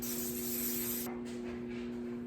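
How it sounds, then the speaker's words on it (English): Butter-flavored cooking spray hisses onto an old pizza pan in one short burst, then cuts off, with a steady electrical hum underneath. "Then I spray my old ass pan with just a little bit of this butter."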